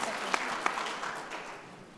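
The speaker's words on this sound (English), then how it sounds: "let's give them a nice warm round of applause" A crowd applauds the panelists at a workforce development event, a dense, steady patter of clapping with a couple of sharper claps standing out and the sound easing slightly toward the end.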